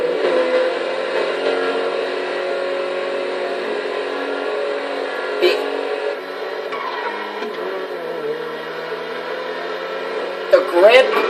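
The Enus Elegy RH8 sports car revs in a video game with a steady, sustained engine whir that shifts pitch slightly. Mid-range, it plays alone without voices and brief clicks interrupt it.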